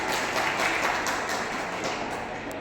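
An audience at a Madhya Pradesh laptop award ceremony applauds, a dense, steady wash of many hands clapping that holds at a constant level, slightly distant and blurred.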